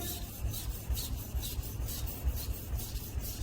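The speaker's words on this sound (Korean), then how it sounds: "자, 이쪽으로 갈았으니까 또 이쪽을 갈아야지, 반대편을." A kitchen knife drawn across a sharpening stone on its opposite side, a steady repeated rasping scrape in even strokes, close and fairly quiet with no talk.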